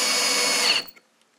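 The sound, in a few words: power drill boring clearance holes through a wooden block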